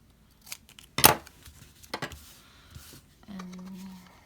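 Scissors snipping a book page for a junk journal pocket, a few separate crisp close cuts with soft paper rustling between them.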